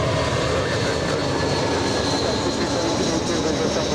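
A large jet airliner arriving at Los Angeles International Airport, its engines a steady, loud broadband roar that holds without break throughout, with no voices heard.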